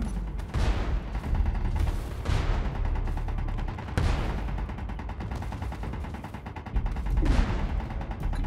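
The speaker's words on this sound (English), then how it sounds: "Using the howitzer" Howitzer artillery and gunfire boom out in Space Engineers: several heavy, spaced blasts with long decaying rumbles, about four big hits, over a constant rattle of smaller shots, loud and near.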